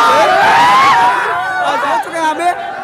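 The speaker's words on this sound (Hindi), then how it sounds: "ऊपर दिखाई बहुत ज्यादा भीड़ लग चुका है यहाँ पे," A large crowd gathered at an exam centre in Bihar, loud and close, with many voices chattering at once and a single voice rising above the babble before the noise thins a little near the end.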